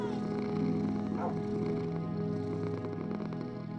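A cat in the video game Minecraft purrs and gives a short mew, faint and close, over a steady humming background with no speech.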